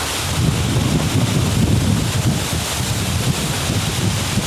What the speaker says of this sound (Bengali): এরই নাম খণ্ডদার ঝর্ণা।